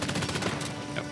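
Rapid bursts of gunfire in a shooter video game, a dense rattling volley that runs steadily and loudly through the whole moment with no voice over it.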